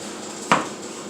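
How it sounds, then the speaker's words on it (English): A knife slices through a cooked pork loin on a board, giving a single short scraping cut with a dull contact at the end, close and alone against a quiet room. "I'm going to take this and I'm going to essentially just cut it into small slices"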